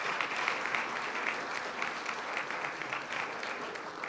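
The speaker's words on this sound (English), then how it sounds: "Let's give them all a big round of applause." Dense, steady applause from dinner guests at the Boyertown Area Progress Dinner honouring sponsors, a continuous even patter of many hands filling the room.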